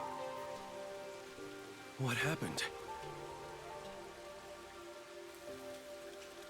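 Steady rain falls in the detective game Master Detective Archives: RainCode, a constant soft wash running under a brief spoken question and some ambient game tones.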